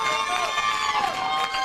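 Crowd at a boys' high school bowling championship cheering on a run of strikes, a bright, excited mix of shouts and voices, with announcer talk over the top.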